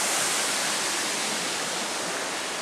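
A waterfall at a picnic spot roars as a steady, dense, close rush of falling water, loud and unbroken throughout with no voices.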